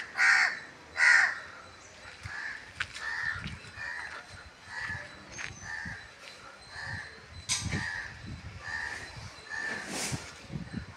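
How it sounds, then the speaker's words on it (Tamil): A crow caws several times around a house with banana and jackfruit trees, loud harsh calls near the start, then fainter repeated caws spaced across the rest amid quiet outdoor ambience. "காக்கா பாருங்க அழகாக கற்றுது."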